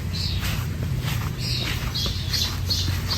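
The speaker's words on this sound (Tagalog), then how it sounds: "Aking puno, oh. Ang daming mga ibon na nasa taas." Small birds in a backyard tree give repeated short high chirps and squawks in an irregular rhythm, moderately near, over a low steady background hum.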